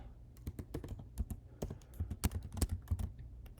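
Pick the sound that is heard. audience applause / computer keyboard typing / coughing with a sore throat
computer keyboard typing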